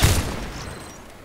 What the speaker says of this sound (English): I thought I shot him with my Orsis.